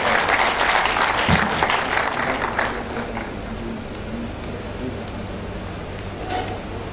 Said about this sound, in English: I want to give him another round of applause for being here with us.